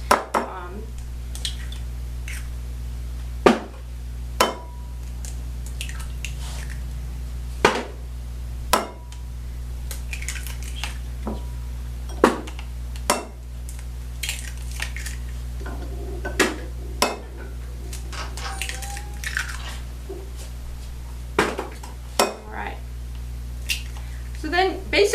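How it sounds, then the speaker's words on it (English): Eggs cracked into a bowl for a vegetable frittata, with a series of sharp taps and clicks spaced through the clip over a steady low hum. "So first thing we're going to do is just crack these eggs in a bowl."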